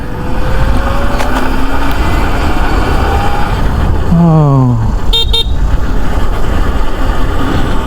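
A short horn toot with a falling pitch from an Ultraviolette F77 electric motorcycle sounds over steady road and engine noise, followed by a brief higher electronic beep.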